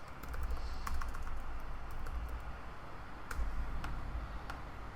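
Someone types on a computer keyboard in short bursts of quick key clicks with brief pauses between them. The clicks are close and fairly quiet.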